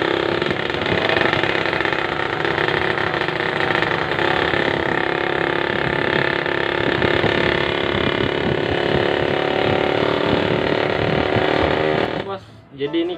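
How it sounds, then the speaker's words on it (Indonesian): A Kawasaki Ninja 150 two-stroke motorcycle engine runs smoothly nearby at a steady idle, humming and buzzing for most of the clip before cutting off near the end, with someone talking over it. "Kalau buat mesin bro, motor ini masih halus ya. Mesinnya masih halus"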